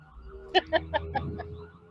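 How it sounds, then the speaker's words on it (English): Siren rising and falling in a brief series of wailing pulses, heard faintly in the background during an online meeting. "Was that your sirens?"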